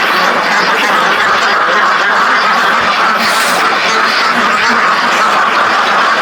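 A dense chorus of many ducks quacking continuously and loudly, overlapping calls forming a steady, noisy din with no pauses.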